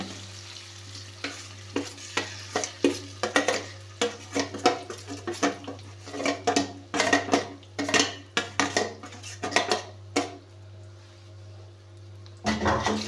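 A spoon scrapes and clatters against a pan in quick, uneven strokes while chutney sizzles softly in the tempering underneath, with a steady low hum throughout.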